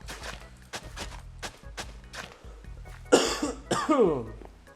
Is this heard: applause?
no